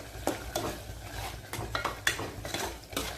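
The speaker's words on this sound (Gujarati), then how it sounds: "હવે આપણે હલાવી દઈએ." Paneer curry is stirred in a pan, with repeated clinks and scrapes of a spoon against metal every half second or so over a low simmering sizzle, nearby and without speech.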